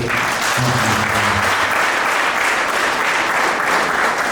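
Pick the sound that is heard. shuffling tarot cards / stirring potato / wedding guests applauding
wedding guests applauding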